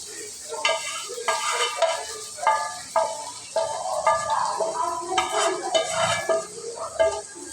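Pre-fried broiler chicken meat goes into hot oil in a kadai, bright sizzling bursts mixed with repeated metallic stirring scrapes in an uneven rhythm.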